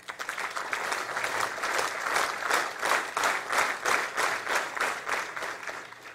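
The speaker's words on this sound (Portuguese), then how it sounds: "Será que vocês conseguem, todos vocês aqui agora, bater palmas em sincronia?" Tech-conference audience clapping together as they try to fall into sync, the crowd's claps pulsing in a steady, increasingly regular rhythm, loud and close throughout.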